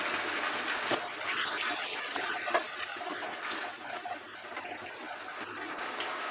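About one and a half cups of water poured into a pot of jackfruit kalia after it has been fried, a steady gushing splash that runs fairly softly through the whole stretch.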